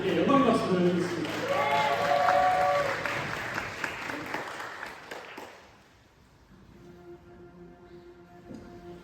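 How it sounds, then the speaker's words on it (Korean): Congregation applauding during a Korean church worship service in Aachen, a dense burst of clapping that swells for several seconds and then fades out, leaving quiet musical tones behind. "하나님께 영광 박수 드리겠습니다."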